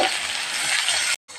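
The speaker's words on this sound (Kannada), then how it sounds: "ಈಗ ಸಣ್ಣಾಗಿ ಜಜ್ಕೊಂಡಿರೋ ಬೆಳ್ಳುಳ್ಳಿನ ಹಾಕ್ತಾಯಿದ್ದೀನಿ." Crushed garlic sizzles in hot oil seasoned with mustard seeds and cumin, a loud, dense, steady frying hiss that cuts out abruptly near the end, then briefly resumes.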